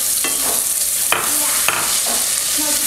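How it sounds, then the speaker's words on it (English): Onions cook in bacon grease in a pan, giving a loud, continuous sizzle broken by four or five sharp spatula scrapes at an uneven pace. "We're just cooking the onions in the bacon grease, and it smells amazing in here."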